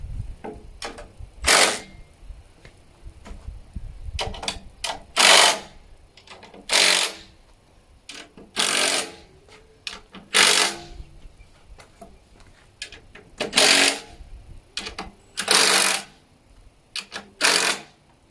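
Coach screws are driven into a swing seat frame in a series of short mechanical whirring bursts, each about a second long, separated by quiet pauses and handling knocks, heard close up.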